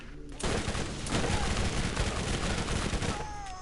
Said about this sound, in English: I'm really digging this explosion rifle